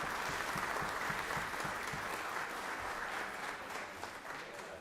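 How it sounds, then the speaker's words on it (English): A round of applause in the Georgia Senate chamber, many hands clapping in a dense, steady wash that holds loud for several seconds and then eases slightly. "y'all give her a round of applause for her service to the country and everything"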